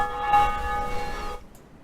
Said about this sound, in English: that's the first Bell of Awakening